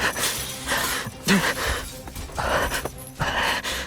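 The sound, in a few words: men moaning and breathing, gacha video game audio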